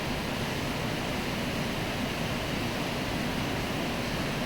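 Heavy rain falls in Hyderabad as a dense, steady, even hiss that fills the whole stretch without pauses or voices.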